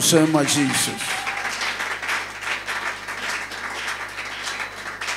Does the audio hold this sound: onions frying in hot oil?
no